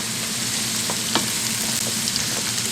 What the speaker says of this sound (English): The carrots are cooking nicely.